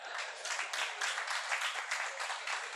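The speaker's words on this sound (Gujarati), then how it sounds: "હવે જો તાળીઓ તો અહીં પડે છે અત્યારે" An audience at a talk on media and politics claps continuously, a dense, even wash of applause from many hands that fills the whole moment without speech.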